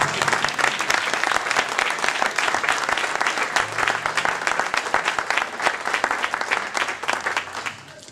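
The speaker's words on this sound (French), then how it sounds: "Je voudrais qu'on applaudisse encore une fois de plus, Madame Stevens." Sustained applause from an audience at a pastor's consecration ceremony in a Bridgeport, Connecticut church, dense and steady clapping filling the room for several seconds before tapering slightly at the end.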